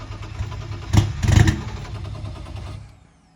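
A turbocharged BMW E36 engine on a dyno lets out two sharp, close revs in quick succession over a rough running drone, then settles and fades toward quiet at the end.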